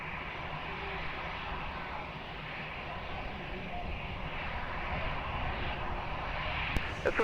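Airliner taking off at Lisbon Airport, a steady broadband engine roar holding at moderate level throughout, swelling slightly toward the end, with faint radio voices in the background.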